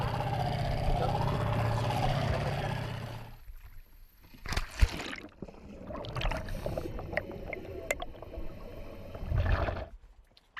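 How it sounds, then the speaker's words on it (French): Motorboat carrying a dive group across icy Arctic waters: a steady engine drone at first, then choppy water splashes, thumps and hull slaps close by for most of the ride. "Le groupe se rend sur le site à explorer en canot à moteur."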